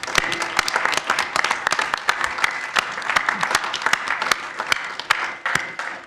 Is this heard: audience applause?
yes